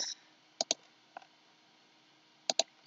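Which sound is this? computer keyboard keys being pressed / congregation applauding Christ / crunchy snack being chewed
computer keyboard keys being pressed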